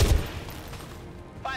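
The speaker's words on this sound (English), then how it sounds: "Alright, take the shot. Fire the weapon" Weapon fire in the video game XCOM 2: one sharp, loud blast right at the start that quickly decays into a low rumbling tail, with a short faint tonal sound near the end.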